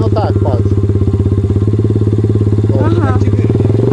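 A motorcycle engine, likely a 120 cc machine, runs at a steady throttle during a first riding lesson, giving an even, throbbing putter throughout, with voices talking over it.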